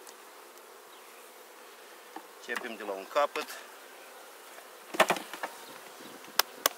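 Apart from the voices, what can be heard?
honey bees buzzing at an open beehive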